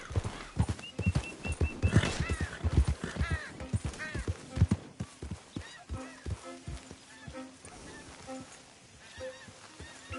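Rhythmic hoofbeats of a horse clip-clopping in Red Dead Redemption 2, steady and fairly close, with occasional whinnies and a voice urging the horse on over the top.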